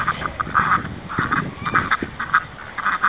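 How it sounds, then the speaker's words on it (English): A flock of ducks being herded by a working dog, honking and quacking repeatedly in close, overlapping bursts throughout, with no talk over them. "This is Luke's first time on the ducks."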